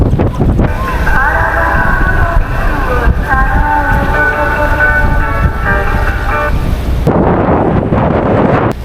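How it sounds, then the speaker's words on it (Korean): Strong wind roars steadily over an offshore fishing boat while octopus fishing near an island, loud constant buffeting with wind noise on the microphone and a voice heard briefly. "바람 엄청 터지네요"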